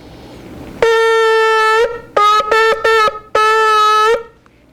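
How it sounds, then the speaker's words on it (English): A shofar blown in Rashi-style shvarim with a short tekiah: a sustained horn blast, then a quick group of three short broken blasts, then another long note, loud and close with no talk. "There's going to be Rashi's shvarims."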